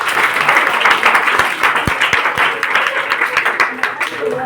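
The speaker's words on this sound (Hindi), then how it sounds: "एक बार ताली बजाइए।" An audience at a Teachers' Day event in Ranchi applauds, a loud burst of many hands with some sharp individual claps standing out near the front, going on for several seconds.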